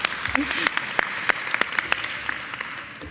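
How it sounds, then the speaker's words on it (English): Scattered audience clapping at a mayoral event at the Queens Museum, individual claps standing out sharply at close range over a soft crowd bed, with a voice briefly heard. "Let's clap for that"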